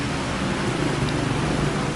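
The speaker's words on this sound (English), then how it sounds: "And it's still a little bit raining here in buakhao." Light rain falling on a street in Buakhao, Pattaya, a steady, fairly faint hiss of drops on hard surfaces with a low traffic rumble beneath.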